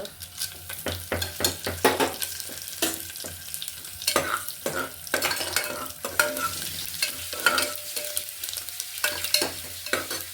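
Mustard seeds and urad dal fry in hot oil, giving a steady crackling sizzle with repeated stirring scrapes and clinks of a utensil against the pan.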